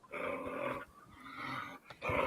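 A playful puppy growls in low, rumbling bursts, three separate stretches close by and moderately loud, with no talk over them.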